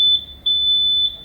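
A portable tire inflator gives a shrill electronic beep when the tire reaches full pressure, loud and close: a short tone, a brief gap, then a longer sustained tone.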